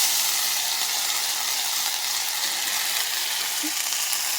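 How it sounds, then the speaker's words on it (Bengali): A pea filling for kachori sautés in a pan, giving a steady, close, dense sizzle that runs unbroken throughout, with no talking. "এবার সবথেকে ধৈর্যের কাজ হলো পুরটাকে কষানো"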